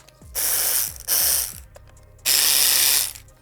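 Ratchet turning 4mm Allen fasteners on a motorcycle, three close bursts of rapid metallic clicking separated by short pauses.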